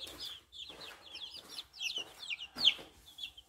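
Young chicks chirp in quick overlapping bursts of high peeps, close and moderately loud, with the occasional soft cluck and no talking.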